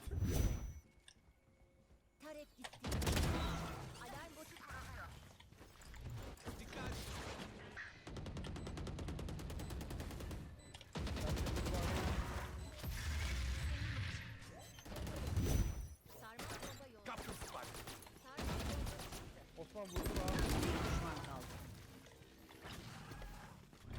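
Gunfire in the video game Valorant comes in bursts of rapid shots with clicks between them, loud and close, and players talk over much of it.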